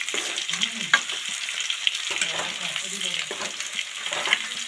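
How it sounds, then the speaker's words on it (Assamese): Fish frying in a pan sizzles and spatters steadily while duck meat cooks nearby, with a spatula stirring and scraping through it and a few light clinks. "ইয়াতে তলত মই মাছ ফ্ৰাই কৰিছোঁ"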